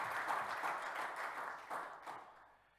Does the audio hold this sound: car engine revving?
no